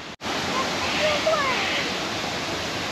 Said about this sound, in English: a view of Katoomba Falls, or at least partway down Katoomba Falls